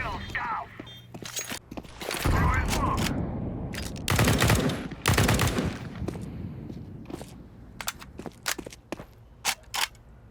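Gunfire in the shooter CS2 during a Faceit match comes as bursts of automatic fire and sharp single shots, some loud and close and others clipped and scattered, while players talk over it.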